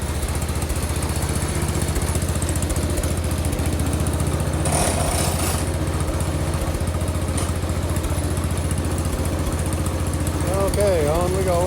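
A small snow thrower engine runs steadily at a close, loud, even idle with a constant mechanical hum and no pauses.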